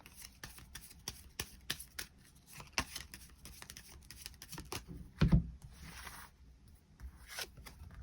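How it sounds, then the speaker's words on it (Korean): Tarot cards are shuffled and drawn by hand, a quiet run of soft riffling taps and brushes with one sharper slap near the middle, close and alone with no talking. "카드 뽑아보도록 하겠습니다."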